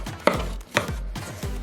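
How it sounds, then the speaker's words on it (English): Homemade cocoa facial scrub being mixed by hand in a bowl, giving three or four sharp, rhythmic scraping strikes spaced about half a second apart, close and fairly loud with no talking. "so you can see the way I'm mixing it. You have to mix it very well"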